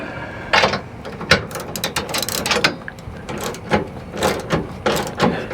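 A ratchet wrench snugging bracket bolts while Sumo Springs are fitted to a GMC Canyon or Chevy Colorado, giving quick bursts of sharp clicking in uneven runs, close and loud, with no talk.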